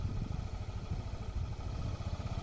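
A motorcycle engine rumbles steadily at low revs as the bike pulls away on light throttle during a riding lesson, with a continuous close, mid-pitched drone and faint mechanical clatter.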